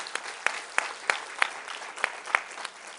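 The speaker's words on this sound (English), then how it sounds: "I'm glad you were clapping for the good news" Audience clapping in short sharp bursts, a modest number of hands, fairly quiet and slightly distant, with no voices over it.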